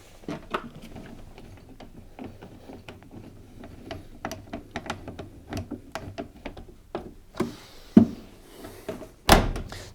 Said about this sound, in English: Now I just have to refit the door and the hinges.